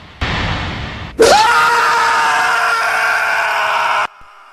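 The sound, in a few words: film scream sound effect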